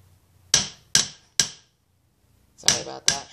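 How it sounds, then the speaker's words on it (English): A twisted, bent metal piece is struck with a hammer to straighten it: three sharp, ringing blows at an even pace, a pause, then two more quick hits, each close and loud with a short decay. "So just grab your hammer and fix that."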